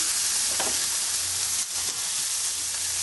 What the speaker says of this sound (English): And we're going to just lay our ground beef in our pan.